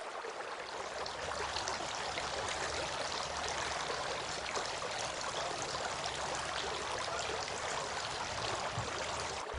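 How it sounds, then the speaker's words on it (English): Water pours and splashes steadily from a tap while a face is washed during Islamic ablution, a close, continuous trickling stream with no talking. "He then washed his face 3 times."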